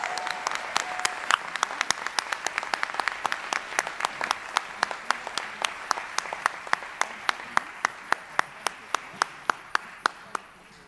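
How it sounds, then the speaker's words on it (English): At the annual Marion County Golden Apple event, an audience gives a round of applause for students, mentors and donors, a broad crowd clapping with crisp, regular claps standing out, gradually thinning and fading over about eleven seconds. "One more time, a round of applause to the students"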